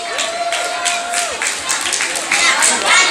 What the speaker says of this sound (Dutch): Mooi alsjeblieft een applaus voor hun.